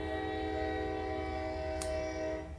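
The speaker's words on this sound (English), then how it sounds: "I don't know if you can hear that, but where my office is, there's a train right outside." A train passes right outside an office, a steady loud rumble with sustained tonal horn-like notes running through the whole stretch and a brief sharp squeal near the end.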